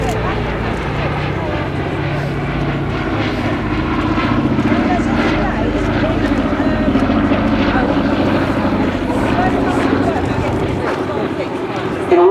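A Boeing B-17G Flying Fortress flies at the Shoreham airshow, its piston engines giving a steady, loud propeller drone throughout, with a voice talking over it.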